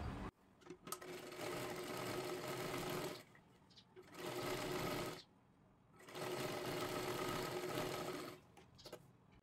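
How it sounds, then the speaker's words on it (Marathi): A sewing machine stitches blouse fabric in three sustained runs of fast, even whirring and needle clatter, with short quiet pauses between runs and no speech over them. "इथे खालच्या बाजूला सुद्धा व्यवस्थित आपल्याला शिलाई करून घ्यायची आहे"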